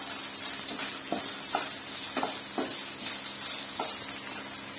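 Chopped onions fry in a pan, a constant close sizzle broken by repeated scraping strokes of a spatula stirring them, with no speech.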